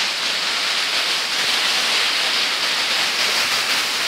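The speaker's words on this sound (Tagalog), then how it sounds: "Medyo malakas na lang yung ulan." Heavy rain pours steadily in a dense, unbroken hiss, loud and close, with no voices over it.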